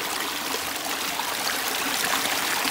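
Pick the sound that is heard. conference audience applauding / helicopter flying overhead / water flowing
water flowing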